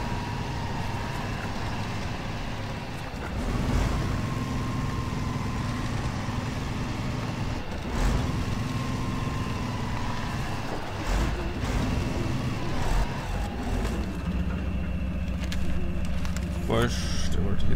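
A heavy truck engine drones continuously in the off-road driving game Spintires, a steady loud rumble with shifting revs throughout, while someone talks over it.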